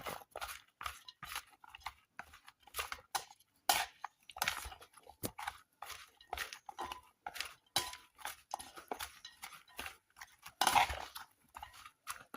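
Salt being mixed into a carrot pickle mixture in a bowl, with quiet, irregular scraping, clicking and crunchy stirring sounds repeating close by for several seconds.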